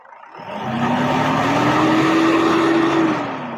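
A car engine revs up from idle, its pitch climbing and holding high for a couple of seconds before dropping back, loud and close.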